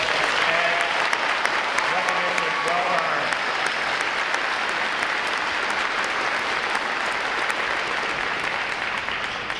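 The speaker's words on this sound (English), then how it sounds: "how about another round of applause for outstanding performance?" Sustained applause from a large crowd, steady and loud throughout, with faint cheering mixed in.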